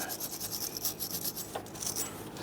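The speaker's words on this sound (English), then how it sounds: "Now I'm going to use a bristle brush, and I want to clean this up." A bristle brush scrubs the O-ring groove of a water pump tube on a 1994–2004 Ford Mustang 3.8L V6, making a continuous, fast, raspy scratching that is close and fairly quiet.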